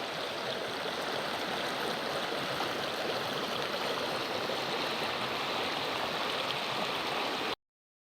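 A mountain stream splits around rocks and gravel, a steady, close broadband rush of water that runs unbroken and then cuts off abruptly.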